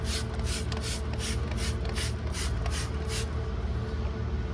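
Acid wheel cleaner is sprayed in a fanning pattern onto a tire rim caked with greasy grime, about eight quick trigger bursts in steady rhythm, close and hissy, over a constant low background hum.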